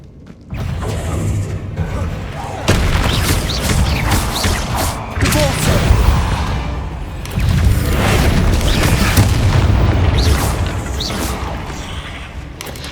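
Incendio fire spell casting in Hogwarts Legacy inside grassy catacombs, several loud whooshing, roaring bursts in a row, close and full, with rumbling impacts between them.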